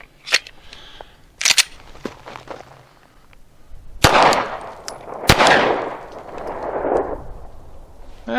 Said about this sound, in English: Now I want to fire 2 rounds out of my Glock.